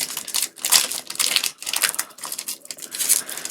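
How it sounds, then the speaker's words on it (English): Japanese Pokémon card packs torn open, crinkly foil ripping in loud close bursts with brief pauses, no voices. "we're just gonna be watching us rip open packs today"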